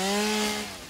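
Chainsaw from the Satisfactory video game, a short loud buzzing whine held steady, then easing off slightly as it cuts through trees, with no one talking.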